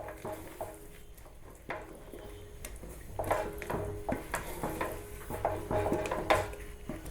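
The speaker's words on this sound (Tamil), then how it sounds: "நெய் சேர்த்து இப்போ கட்டி இல்லாமல் மிக்ஸ் பண்ணி விடுங்க." Rice flour batter for adhirasam being mixed with a spoonful of ghee, with a ladle knocking and scraping the pot in irregular strokes that grow busier toward the end, quiet and close.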